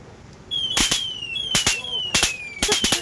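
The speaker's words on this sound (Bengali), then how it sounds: "এটা রিমোট আলা বোম আইছে" A remote-detonated firecracker bomb, a type known as a 28 bomb, goes off: four loud, sharp, close cracks in quick succession, with a thin, steadily falling whistle-like tone running under them.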